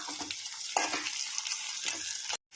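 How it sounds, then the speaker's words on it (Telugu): Curry leaves and dried red chillies fry in hot oil with a steady bright sizzle. A few stirring scrapes and bursts rise over it before it cuts off abruptly near the end. "ఇప్పుడు మనం కరివేపాకు ఎండుమిర్చి అయితే వేసుకొని మళ్ళీ ఒక కొంచెం సేపు వేయించుకుందాం"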